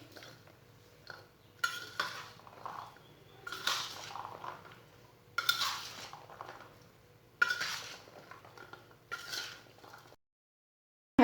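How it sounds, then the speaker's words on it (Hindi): Chana chaat ingredients stirred with a spoon in a bowl with chaat masala and salt, giving repeated light scraping and clinking bursts at an irregular pace, fairly close, with no talk. "सब चीज़ों को अच्छी तरह मिक्स कर लेंगे।"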